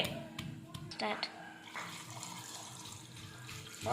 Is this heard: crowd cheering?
no